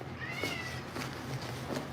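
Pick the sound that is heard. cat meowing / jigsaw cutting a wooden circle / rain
cat meowing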